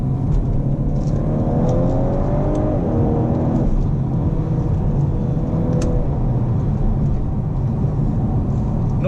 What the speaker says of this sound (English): But look at that, even the first gear acceleration is really impressive.